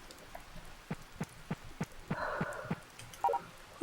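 Light rain patters in the Harvest Moon: Save the Homeland game on PS2, a soft steady hiss broken by scattered near droplet ticks, with a few brief game chimes near the end.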